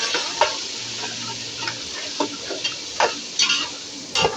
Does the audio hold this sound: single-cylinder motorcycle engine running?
no